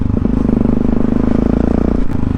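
A two-stroke motorcycle engine runs nearby with a steady, buzzy, rapidly pulsing drone that holds an even pitch for the whole moment.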